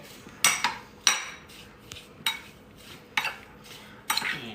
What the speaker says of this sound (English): We're just gonna give them a nice stir.